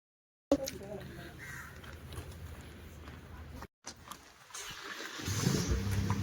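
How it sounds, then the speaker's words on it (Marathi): A car engine rumbles low and steady as the vehicle sets off, swelling louder toward the end, with faint voices and cabin noise around it. "चाललो आता आम्ही गाडीत."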